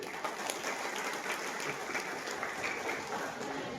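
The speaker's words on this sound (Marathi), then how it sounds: "आपण सर्वांनी मुश्रीफ साहेबांच्या साठी टाळ्या वाजवायचे" Audience applause at a Nationalist Congress Party political speech in Maharashtra: a dense, steady wash of many hands clapping that holds evenly for several seconds at moderate distance, with no pauses.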